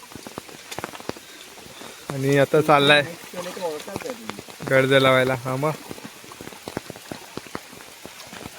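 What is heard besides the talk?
rain falling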